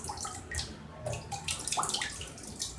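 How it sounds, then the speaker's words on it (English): Water drips and trickles off a freshly rinsed filter, faint splashes and patters coming in irregular bursts close by. "Let your water drain off a little bit."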